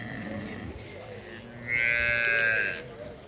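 A Jersey Friesian cross cow on a farm with her calf close by, one long, loud, drawn-out moo rising after a quieter stretch of low bleating and ambient farm noise.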